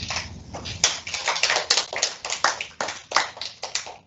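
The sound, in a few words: classroom audience applause after a presentation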